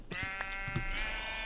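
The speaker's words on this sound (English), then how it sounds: "Shut up, sheep." A Minecraft sheep gives one clear, drawn-out, wavering bleat, loud and close, with a few brief clicks just before it and no talking.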